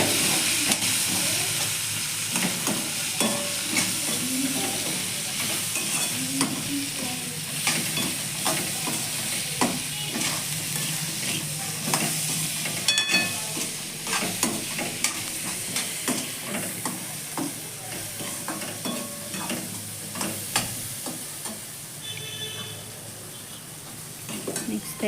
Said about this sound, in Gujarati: મિક્સ કરી લઈએ